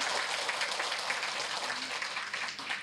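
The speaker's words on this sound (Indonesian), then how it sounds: "Kita berikan tepuk tangan kepada Bu Krisna Dewi." An audience at a church fellowship psychology talk applauds Ibu Krisna Dewi, a soft, even wash of clapping heard from a distance, with no voices over it.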